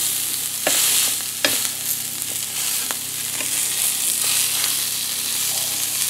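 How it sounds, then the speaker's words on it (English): Steady sizzling of corned beef meatballs frying in a pan, a dense continuous crackle with occasional sharper pops and scrapes, close and fairly loud, no voices. "I've got the corned beef meatballs frying up now."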